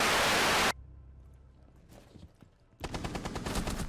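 Gunfire in a Rainbow Six Siege match erupts in loud bursts. A dense blast opens the clip and then cuts off, scattered faint shots follow, and a rapid automatic volley rattles at the end.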